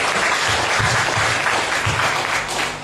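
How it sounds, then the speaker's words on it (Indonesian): Loud, continuous applause from a congregation at a church seminar in Timor-Leste, a dense wash of clapping that holds steady for about three seconds with no voices over it. "Berikan dulu tepuk tangan bagi Tuhan Yesus."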